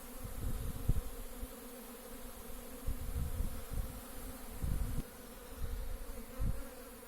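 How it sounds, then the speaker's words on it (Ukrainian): Low, continuous buzzing of many honeybees flying around the hives of an apiary in early spring, swelling and dipping as individual bees pass close. "Майже всі бджоли пішли на обліт."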